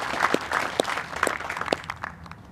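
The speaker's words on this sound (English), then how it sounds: "Let's give a big round of applause to this cadre member for their outstanding accomplishments." Applause at a military officer candidate school graduation ceremony, a crowd clapping steadily for a few seconds and then tapering off.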